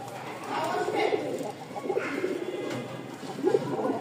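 Male pigeon in a breeding pair cooing in a new enclosure, soft low throaty coos repeating in a loose rhythm, close but quiet, with a voice talking over them.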